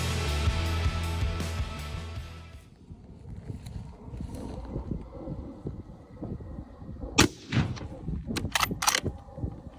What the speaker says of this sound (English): This is important as he's shooting a Winchester XPR.